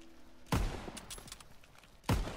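Two loud, close gunshot blasts in Call of Duty WWII online multiplayer, spaced about a second and a half apart, each with a sharp attack and a ringing decay over quieter game sounds between them.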